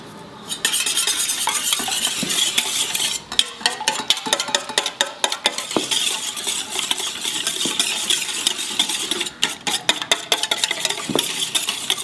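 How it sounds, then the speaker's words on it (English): An egg is beaten in a bowl to coat fish fingers, giving a fast, steady clatter of a fork against the bowl that runs without a break and has no voices over it. "So I take one egg, beat it up well"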